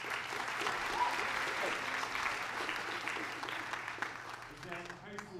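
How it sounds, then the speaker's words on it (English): An audience at a high school choir concert claps steadily and loudly throughout, a dense wash of applause that thins out near the end. "give Miss Pellington a round of applause."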